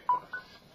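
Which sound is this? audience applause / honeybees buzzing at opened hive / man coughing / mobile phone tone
mobile phone tone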